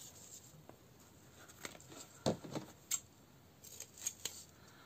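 Scissors snip several times in quick, uneven bursts, crisp and close against a quiet room.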